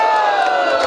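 A large crowd at a live concert roars and cheers loudly, a dense wall of shouting voices close and sustained for the whole short moment.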